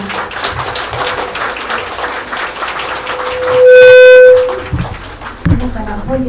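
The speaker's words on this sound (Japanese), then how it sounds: "講師の皆様に今一度盛大な拍手をお願いいたします。" An audience applauds the lecturers at the close of a symposium on the spread of Christianity in Sengoku-era Kawachi: a few seconds of sustained clapping, then a brief loud steady tone and some voices at the end.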